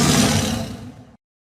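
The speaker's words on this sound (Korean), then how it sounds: "산천을 찢는 듯한 호랑이의 울음소리가 들려오더니" A tiger's roar, loud and close, one sustained raw bellow lasting about a second before cutting off into silence.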